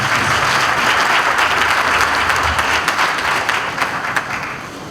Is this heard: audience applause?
yes